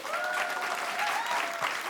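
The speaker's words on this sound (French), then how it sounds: "on les applaudit bien fort" An audience claps together in a steady, dense burst of applause that holds at an even level throughout, with no voices standing out.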